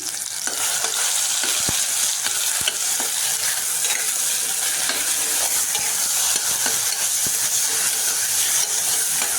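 Tomato and masala fry in a pan while being stirred, a loud, close, steady sizzle and hiss broken by scraping and tapping of the spoon.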